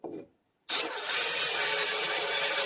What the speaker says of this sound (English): I'm not sure if this is the right drill bit size.